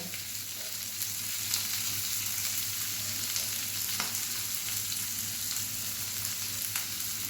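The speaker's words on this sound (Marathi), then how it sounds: "लगेचच आपल्याला कांदा घालायचा आहे आणि लसूण सुद्धा घालून घ्यायचं आहे" Onion and garlic sizzle in a pan for methi bhaji, an even and continuous close frying hiss with faint stirring scrapes, with no voices.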